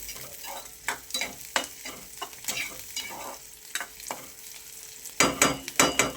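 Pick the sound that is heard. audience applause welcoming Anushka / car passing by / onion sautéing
onion sautéing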